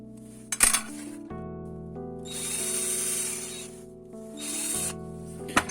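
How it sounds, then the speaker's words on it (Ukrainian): A power drill bores a hole through an old steel nut for a crucible holder, two sustained whining bursts with a brief clink between, over a steady background hum. "Тепер в гайки просверлимо дірочку для того, щоб е, діаметром вашого прута."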